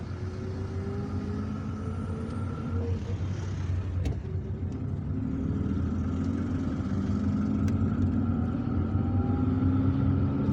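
Public bus engine idling at Birkhadem bus station in Algiers, a steady low rumble with a mid-range drone that grows slightly louder, plus occasional faint clicks and distant traffic, no talk.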